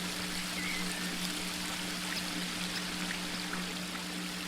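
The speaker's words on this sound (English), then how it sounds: "The waterfall." Rushing water from a waterfall in a video game, a steady, fairly faint hiss of falling and splashing water with no voices.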